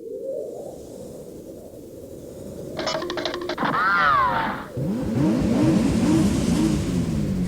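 Mad Max Fury Road style effect with a low rushing wind bed, a brief clattering burst, then a car engine revving in repeated rising and falling sweeps, loud and close, no voices.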